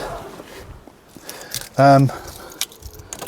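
Keys jangle inside a 2016 Fiat 500 Lounge as they are fitted toward the ignition, a close metallic rattle with a short loud tonal chime-like burst midway and low background rustling.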